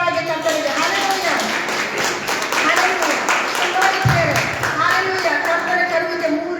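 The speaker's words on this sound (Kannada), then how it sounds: "ಚಪ್ಪಾಳೆ ತಟ್ಟಿನ ಜೋರಾಗಿ ಕರ್ತನಿಗೆ" Church congregation clapping hands loudly in rhythm during a prayer meeting, a steady run of claps beneath a voice speaking and chanting.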